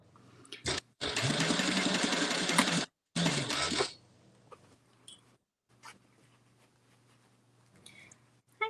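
Sewing machine stitching a zip around a wallet, two close bursts of rapid steady whirring stitches, one about two seconds long and a shorter one after a brief pause, followed by quiet handling clicks.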